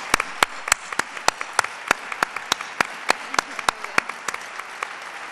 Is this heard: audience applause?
yes